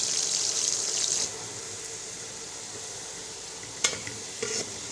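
Onions sizzling and frying in hot oil in a pan for mutton yakhni pulao, stirred continuously, with a steady close hiss and a couple of sharper scraping knocks near the end.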